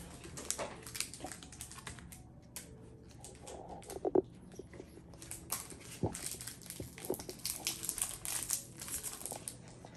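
Faint, close crinkling of a Pokemon card pack's foil wrapper as it is opened, soft irregular crackles and rustles with a couple of sharper snaps.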